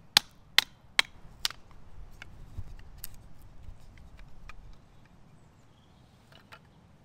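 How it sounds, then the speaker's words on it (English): Hazel wood split for kindling with a knife struck by a mallet: four sharp, loud knocks close together at the start, then softer scraping and a couple of faint taps, with no talking. "In addition to splitting kindling,"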